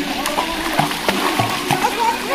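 A young swimmer kicks and splashes in a pool, with choppy, repeated splashes and sloshing up close while a voice talks over the water.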